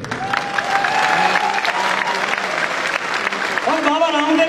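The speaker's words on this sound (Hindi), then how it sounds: "तालियां बजाने से 52 प्रकार की बीमारियां दूर होती हैं।" An audience at a wellness company motivational talk claps steadily throughout, with a voice speaking over the crowd noise.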